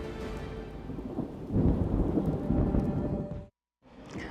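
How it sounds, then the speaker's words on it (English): Rolling thunder in a rainstorm rumbles low and loud, swelling midway over a constant patter of rain, then cuts off abruptly to silence before the rain returns. "the thunder rolls"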